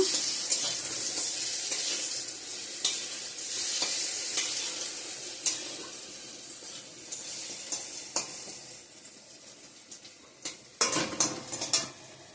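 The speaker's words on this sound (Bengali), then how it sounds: "এদিকে বেগুন ভাজা বসা দিয়েছি মেয়ের জন্য" Eggplant slices fry in a pan for a vegetarian Saturday meal, giving a steady, close sizzle broken by scraping stirs and sharp clinks of utensil against the pan, with a louder burst of clatter near the end.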